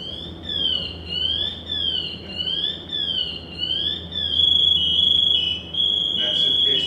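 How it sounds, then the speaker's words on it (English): A firefighter's PASS personal alarm safety system sounds as a piercing electronic alarm, first in rising and falling warbles, then switching to a sustained loud, full-alarm tone, with someone talking faintly underneath. "built into this is a pass alarm. It's a personal alarm safety system."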